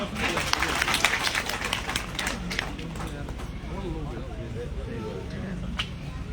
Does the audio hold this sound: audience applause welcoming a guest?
yes